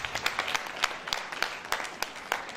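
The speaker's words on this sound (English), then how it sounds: "I think that is a round of applause." Light applause from a gathering at a formal citation ceremony honouring the First Lady of Ekiti State, with scattered individual claps popping out over a soft, steady patter.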